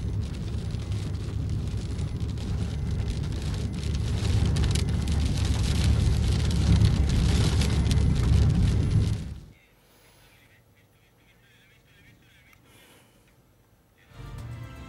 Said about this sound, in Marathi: पुणे आणि रायगड जिल्ह्याच्या ग्रामीण भागात जोरदार पाऊस आहे।